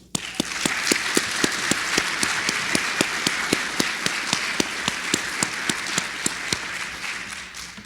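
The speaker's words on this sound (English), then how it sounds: "Please, another round of applause." Applause at a WIOA summit keynote for Chancellor Salgado: a broad wash of crowd clapping with one sharp, evenly spaced clap standing out close by, steady throughout.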